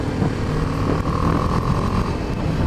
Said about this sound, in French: نسيو la nouvelle BMW G310